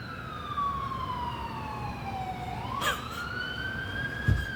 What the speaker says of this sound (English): I don't know if you heard that siren.